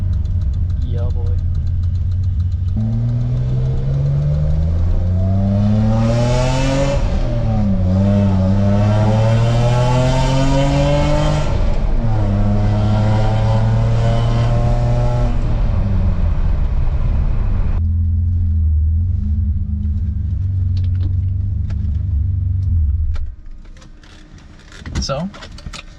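A BMW E30 engine idles, then revs up repeatedly with rising and falling pitch, loud and close, before dropping back to a steady idle and cutting off near the end, with no talk over it.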